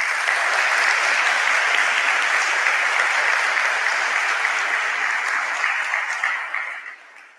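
A school move-up ceremony audience gives a full, even round of applause that holds steady and then fades away near the end.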